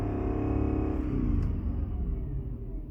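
A 2004 Mercedes E500 W211 with the M113 V8 winds down as it decelerates, a loud close engine rumble whose harmonics sweep downward and fade into a softer, lower drone.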